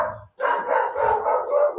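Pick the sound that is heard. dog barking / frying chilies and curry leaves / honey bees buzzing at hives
dog barking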